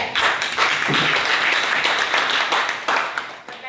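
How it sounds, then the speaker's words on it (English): Clapping from an audience at a Lions Clubs business exchange meeting, a steady burst of many hands applauding for several seconds, fairly loud and continuous with no talk over it. "Let us clap for each one of you."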